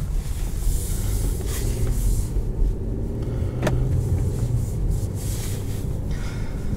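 A 2022 Infiniti Q50 Luxe with a seven-speed automatic drives along a road, its steady engine drone and road roar heard from inside the cabin, constant and fairly loud with no talking.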